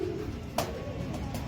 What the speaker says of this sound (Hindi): आपको डब वाला कबूतर दिखा रहा हूँ मैं आपको